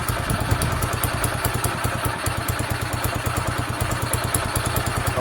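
A Sinnis SC125 motorcycle engine runs steadily with a fast, even low-pitched pulse and a mechanical clatter, its revs hanging rather than dropping back cleanly, heard close and alone.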